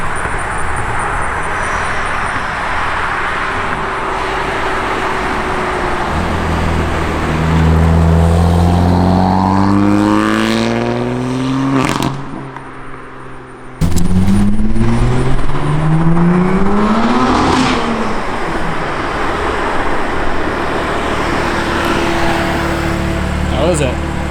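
A BMW F80 M3 running an Active Autowerke equal-length midpipe, with its exhaust revving loudly and close in two rising, roaring sweeps separated by a brief cut, plus slight crackle over a constant background rumble.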